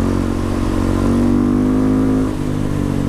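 A KTM 690 SMCR single-cylinder motorcycle accelerates hard, its loud, close engine note droning steadily and rising in pitch through the middle before easing slightly near the end.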